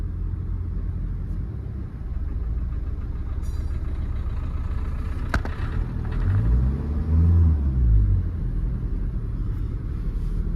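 A Renault Lodgy engine with a defective fuel pump runs with a steady low rumble close by, with a sharp click partway through and a surging, wavering hum near the end; no one speaks.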